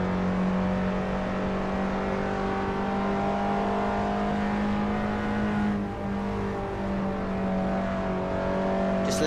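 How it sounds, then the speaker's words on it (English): Peugeot 206 race car engines in Assetto Corsa at Oulton Park drone steadily at high revs, a sustained loud whine with slight pitch shifts as cars follow one another. "Just letting you listen to some of the sounds, the beautiful sounds from these Peugeot cars as they follow one another"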